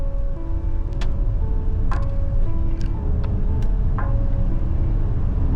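A Jetour X70 Lightning plug-in hybrid SUV accelerates from 0 to 100 kph on a battery below 20%, a loud, steady cabin rumble of road and motor noise, with a few faint clicks and tones and no talking.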